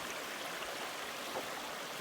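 Steady, even rush of a stream flowing at a trail crossing on the Ouachita National Recreation Trail, a continuous broadband wash of water heard up close with no voices.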